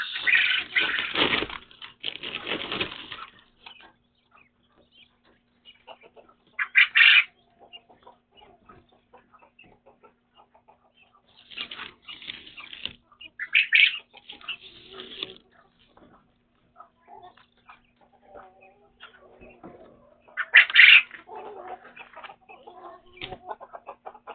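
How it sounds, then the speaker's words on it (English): Indoor therapy birds give sharp chirps and squawking calls in scattered bursts, loud at times and separated by quiet stretches, with faint rustling between calls. "Lots more birds."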